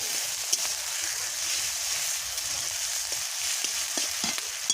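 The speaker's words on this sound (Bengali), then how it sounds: "আদা রসুনটা ভালো সুন্দর ভাজা হলে তেল ভালো হয়।" Ginger and garlic paste fries in oil in a pan, a continuous soft sizzle with occasional spatula clicks and scrapes and no talking.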